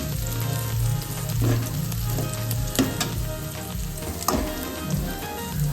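Fenugreek leaves curry sizzles steadily in a pan as tomato goes in, with a continuous loud frying hiss and occasional stirring scrapes and taps throughout.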